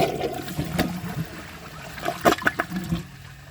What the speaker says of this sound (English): it's got a pretty short flush